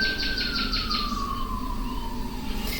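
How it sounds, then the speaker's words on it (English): A fire truck siren wails from a distance, its pitch slowly falling as it moves away, over a low background hum. "You hear that? That's a fire truck."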